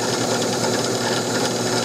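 Power drill slowly boring into the wooden forearm of a Winchester Model 21 shotgun, a steady, close, continuous whirring grind.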